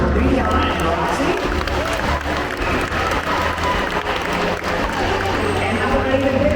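A crowd at an aquarium dolphin show claps and cheers in a loud, continuous wash, with a broad rumble of the venue and voices mixed through the noise.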